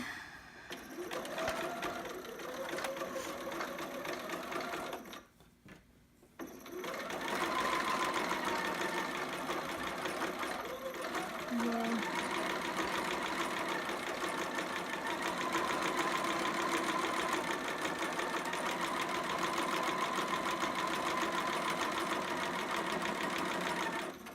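A sewing machine stitches a seam on fabric pieces for a two-piece baby sitter outfit, running in a steady, loud continuous whir with a brief pause near the start before resuming and humming on without interruption.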